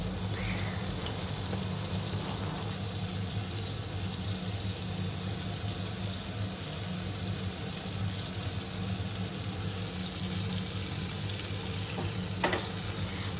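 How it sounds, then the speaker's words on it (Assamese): Butter melts and sizzles in a hot kadai as a chicken dish begins. A continuous close frying hiss is heard over a low steady hum, with a brief clink near the end and no voices. "বাটাৰখিনি অলম'ষ্ট মেল্ট হৈ গ'ল। আপোনাৰ কেৰাহী গৰমে আছিলে যিহেতু, সেইটো কাৰণে আপোনাৰ বাটাৰখিনি সোনকালে মেল্ট হৈ গ'ল"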